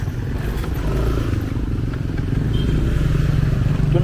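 Motorcycles and scooters on a street in Ubud, Bali, a steady close engine drone rumbling continuously with light clatter, no talk.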